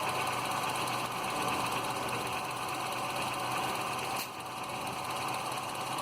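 Vehicle engine idling steadily during an engine compression test, a continuous even hum with a brief dip partway through, with no talking.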